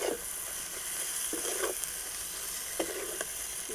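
Spice masala for rohu fish kalia fries in a pan with a steady close sizzle, broken by a few soft scrapes as it is stirred. The sound is moderately loud, with no one speaking.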